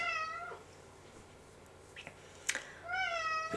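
An unhappy house cat meows twice, one call at the start and a second longer one near the end, close by, with a few small knocks and rustles in the quiet gap between.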